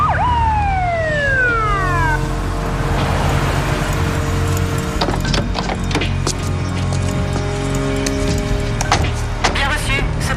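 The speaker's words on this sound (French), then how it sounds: "Mets la sirène." A police car siren wails in a few quick descending sweeps at the start, then fades into engine noise, clicks and scattered knocks while voices talk over it.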